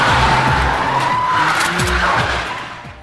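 Car tires skid and squeal loudly during a film car chase, a sustained screech over a roaring engine that fades slightly at the end, with no talking.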